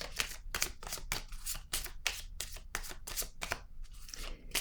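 Oracle cards are shuffled and handled by hand to draw a pink card, giving a rapid series of crisp riffling flutters and soft slaps, close and fairly quiet, with no talking.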